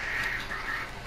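A bird in the video game Far Cry 4 gives harsh squawking calls, a couple of rough cries over about a second, fairly faint against the game's background noise.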